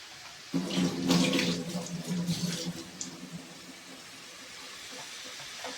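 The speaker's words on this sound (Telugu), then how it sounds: "చేతులు కడుతున్నాను." Tap water runs into a sink during handwashing in a home kitchen, a soft steady splashing hiss that starts abruptly, swells, then thins to a faint trickle.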